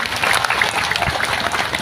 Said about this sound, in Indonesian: Tepuk tangan dulu buat muslimat NU-nya